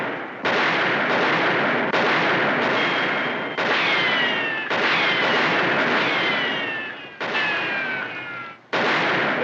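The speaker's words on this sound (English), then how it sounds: "Tell him to stop firing." Rapid gunfire in a western movie scene: loud, dense bursts of shots and blasts in repeated bursts separated by brief gaps, with a few whistling ricochet-like streaks, and no talking.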